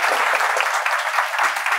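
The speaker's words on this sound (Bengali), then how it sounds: "স্যারের জন্য একটা জোরে করতালি" An audience at a polytechnic motivational talk claps for a teacher, a dense, steady burst of applause throughout with no voices over it.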